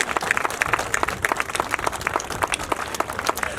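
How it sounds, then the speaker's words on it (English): An audience at a Hmong community memorial event in Colorado gives steady applause, a dense, continuous patter of many hands clapping throughout, fairly close with no talk over it. "Please, a round of applause for those fine people."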